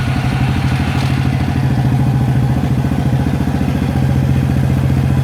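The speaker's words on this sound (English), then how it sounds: "If I go ahead and start the bike" A Suzuki quad bike engine runs at a steady, loud idle close by, with a fast rhythmic mechanical clatter throughout and no speech.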